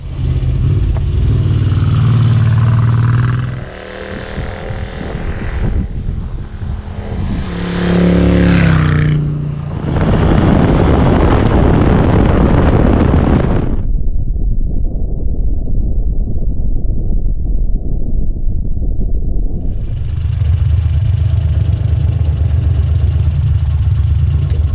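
A Moto Guzzi 1000S cafe racer is ridden on the road, its engine droning loud and steady, rising and falling through gear changes, with stretches where the sound turns muffled and dull.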